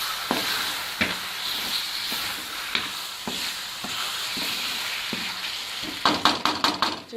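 Fish frying in oil in a karahi that is not non-stick, with a steady sizzle under repeated scraping, stirring strokes of a spoon, quickening into a burst of sharp clatters near the end.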